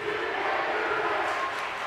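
A high school volleyball crowd roars and cheers in a steady, full wash of noise filling the gym.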